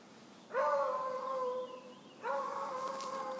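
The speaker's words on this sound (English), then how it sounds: "this is the neighbor's dog" Kenny, a neighbour's dog, lets out two long sustained howls outdoors, the first starting strongly and trailing off, the second following after a brief pause, close and clear with no talk.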